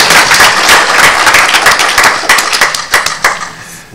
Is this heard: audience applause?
yes